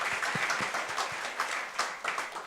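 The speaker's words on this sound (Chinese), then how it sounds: "这个时候要拍手一下" A church congregation at a prayer meeting claps in short scattered bursts, a loose, uneven patter of hands at moderate distance, with faint voices underneath.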